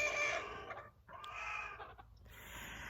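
Chickens cluck in a large backyard wooden coop, several birds close by giving repeated clucks and a short crowing call, with no talk.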